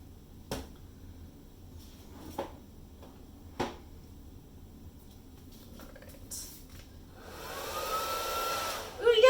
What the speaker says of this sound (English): my normal hair dryer is dying on me, like it only blows cold air now